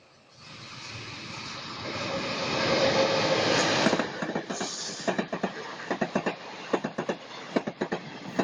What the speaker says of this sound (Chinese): 这是村子内的三里火车站